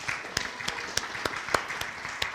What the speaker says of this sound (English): We're clapping for you.